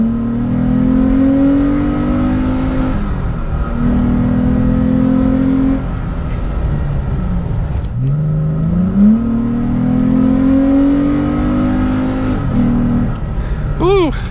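A Toyota Tacoma engine fitted with an Injen cold air intake revving hard several times, the pitch climbing and dropping in long sweeps, loud and close, with a brief squeal of higher whine near the end.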